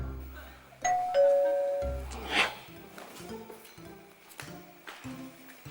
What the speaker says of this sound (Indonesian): Mon, bel berbunyi. Ya, gue juga denger.